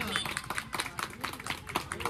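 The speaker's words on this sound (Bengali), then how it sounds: "একবার জোরে হাততালি হবে প্লিজ" A prize-giving audience claps in a brisk burst of scattered hand claps while a voice talks over them.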